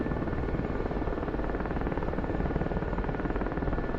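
Helicopter in the DCS World combat flight simulator, a steady, dense rotor-and-turbine drone with a fast rhythmic beat, loud and unchanging throughout with no voices.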